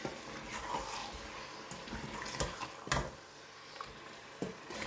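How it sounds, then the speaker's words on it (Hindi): Chicken pieces that have been washed and drained sizzle and crackle in a hot pan with ginger-garlic paste, a steady broad hiss with scattered pops and clinks, moderately close and fairly quiet. "अब इसको फ्राई करेंगे।"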